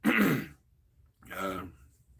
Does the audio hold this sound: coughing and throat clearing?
yes